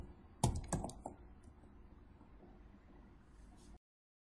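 Keys clack on a computer keyboard in a short quick burst of typing, several close crisp strokes at first and then a few lighter taps, with no one talking.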